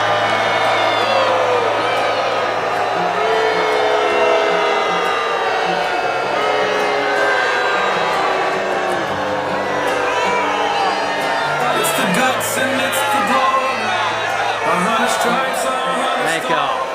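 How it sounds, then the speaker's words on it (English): Rally crowd booing Senator Lindsey Graham in Pickens, a continuous roar of jeers, shouts and whoops from many people, loud and close, with scattered hollering throughout. "Beginning at the speech, there was booing."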